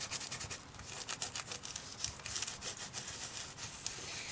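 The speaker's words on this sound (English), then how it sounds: "So give it a real good burnish and make sure that you get all the sticky parts covered." Card is burnished firmly onto a sticky adhesive sheet, a close, continuous scratchy rubbing with quick back-and-forth strokes and no talk.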